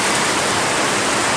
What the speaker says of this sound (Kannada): ಅಷ್ಟು ಜೋರು ಮಳೆ ಬರ್ತುಂಟು